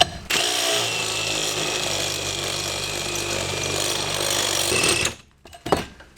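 Cordless drill with a step bit boring through a first-generation Dodge hitch part, a loud continuous whine and grind for about five seconds before it stops abruptly, followed by a few faint clunks.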